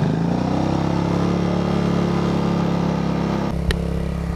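A small motorbike rides along a freshly asphalted road in Kantouni, its engine giving a steady, loud mid-pitched drone close to the microphone, easing slightly near the end with a single sharp click.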